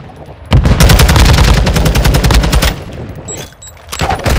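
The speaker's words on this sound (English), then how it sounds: "Shooting them." Sustained automatic gunfire from Call of Duty Modern Warfare 2 during a ranked Hardpoint match, a loud rapid burst running for about two seconds before thinning into scattered shots and faint distant fire.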